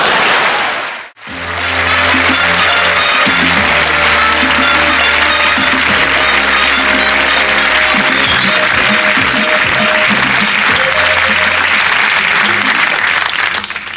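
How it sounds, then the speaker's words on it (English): Loud, sustained applause from a studio audience at a television comedy sketch show, rising abruptly after a short gap and continuing thickly over a bed of music for the full length. "Cue applause"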